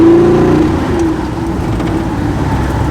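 A 1953 Chevrolet hot rod truck driving with its engine running: a steady, loud, close engine drone with a brief rising tone near the start, with no talking.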